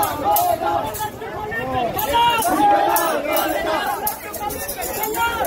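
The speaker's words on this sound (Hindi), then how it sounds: "बहुत भीड़ हो रही है यहाँ पे" A large crowd of villagers at the Dwarahat fair in Kumaon fills the air with loud, continuous babble, overlapping voices and occasional shouts close by.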